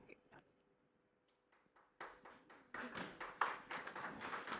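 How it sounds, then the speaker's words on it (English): Scattered claps start quietly, then swell into steady applause from a presentation audience that builds and continues. "So please, a huge applause to Alexis and Adeline."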